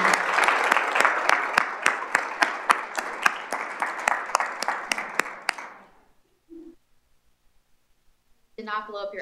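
Audience at a women in leadership law school event gives a round of applause, dense steady clapping for about five seconds that then stops; a short murmur follows and a voice starts talking at the end.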